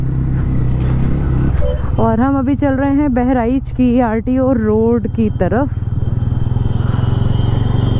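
A motorcycle rides along a road with a steady, loud engine drone throughout while someone talks over it at length.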